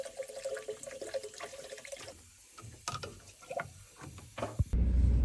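Water runs and splashes while a gas boiler heating system is drained and flushed, a steady wet flow with knocks and clatter of fittings, ending in a louder rushing gush nearby.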